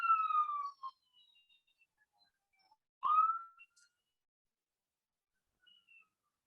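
A police siren sounds on a busy street, a faint wavering wail at first, then a brief rising whoop midway, with quiet gaps and scattered distant traffic between.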